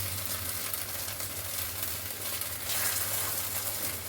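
A steady sizzle of shallow frying in a pan after a little oil is trickled in at the edge, a constant, fairly loud hiss with no voices.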